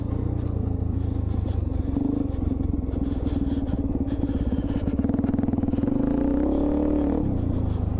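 A Suzuki DR-Z400E dual-sport motorcycle rides along with a steady, loud single-cylinder engine drone that dips and rises briefly near the end as the rider shifts gears, with no voices.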